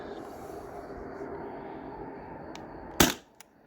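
A modified Sabre 68 12-gram CO2 gun fires one sharp, loud shot near the end after a stretch of low background noise, followed by a faint small click.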